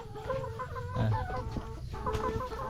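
Chickens cluck continuously and close at hand on a farm during egg collecting. Several birds overlap in a busy, steady chatter.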